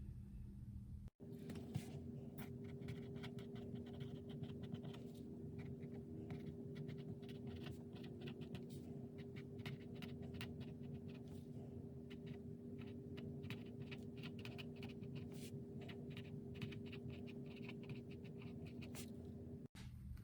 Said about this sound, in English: let me write in these categories.